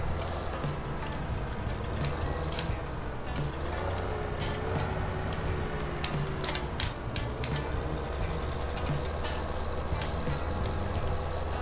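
A car in the Farming Simulator 17 video game drives along with a steady engine drone and mechanical rumble, while scattered clicks and clanks sound over it throughout.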